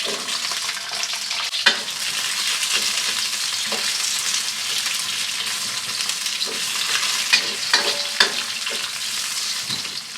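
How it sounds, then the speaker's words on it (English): Garlic and carrots fry in a hot pan over medium-high heat, a steady bright sizzle with a few sharp crackles and stirring clicks scattered through it. "Toss in the garlic and the carrots."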